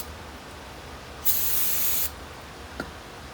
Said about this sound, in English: Spray yourself some brake material on here, brake clean material.